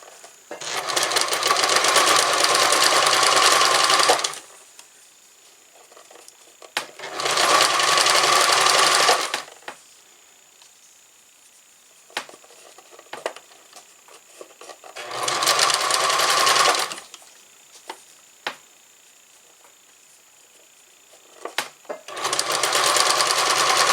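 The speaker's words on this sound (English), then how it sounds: "Machine will push it to the left." A sewing machine stitches fabric piping in four loud bursts of rapid whirring, each a few seconds long, separated by quiet pauses with small clicks and handling sounds.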